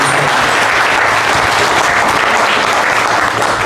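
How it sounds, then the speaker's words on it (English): Applause from the audience at a boxing promotion event, a loud and sustained wash of clapping from a crowd that fills the whole stretch without a break. "Let's give Super Sport a good round of applause"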